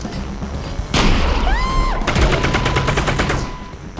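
Gunfire in the video game Half-Life: Alyx, a loud burst of shots followed by a rapid string of automatic fire, close and dominant with no talk.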